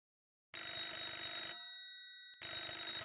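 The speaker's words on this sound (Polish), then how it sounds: "Telefon w pokoju hotelowym zadzwonił kilka minut po ósmej rano." An old-style telephone bell rings in two bursts separated by a short pause, bright and metallic, close and clear.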